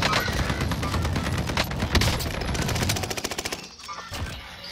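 Sustained automatic gunfire from a video game weapon loaded with incendiary rounds, rapid dense bursts running almost continuously, then breaking into a tighter string of distinct shots before trailing off.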